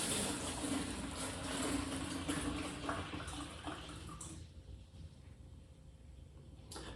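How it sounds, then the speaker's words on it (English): Beer wort poured from a kettle into a fermenter for a one-gallon Dead Ringer batch, a steady splashing, gurgling liquid rush up close for about four seconds, then tapering to a quieter trickle. "One thing I like about pouring it into the fermenter is it aerates it"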